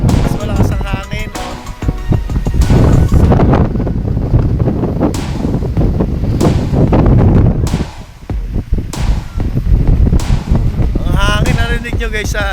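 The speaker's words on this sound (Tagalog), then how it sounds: "Mas malakas ang hangin." Strong wind buffets the microphone outdoors at a civic motorcycle meet in Oriental Mindoro, loud gusty roaring that surges and drops across the whole stretch with faint voices underneath.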